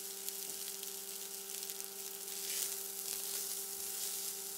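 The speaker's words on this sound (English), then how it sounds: "Now we're going to want to saute our carrots, celery, and onions." Carrots, celery and onions saute in oil as a mirepoix, a soft, steady sizzle with a faint electrical hum beneath, swelling slightly midway, no talking.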